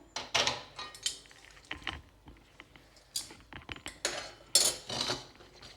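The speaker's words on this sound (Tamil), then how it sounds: "ஜஸ்ட்டு மிக்ஸ் பண்ணிக்கோங்க நல்லா" A spoon stirs a thick jaggery syrup mixture in a pot, giving quick irregular scrapes and knocks against the vessel, close and clear, in bursts separated by brief pauses.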